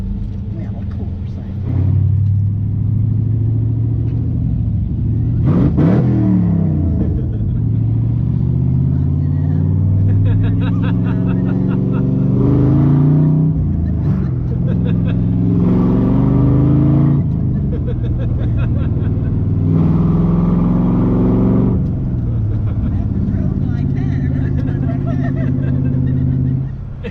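A loud LS V8 engine swapped into a 1957 Chevy rumbles and revs repeatedly, its deep exhaust swelling and dropping in bursts close by.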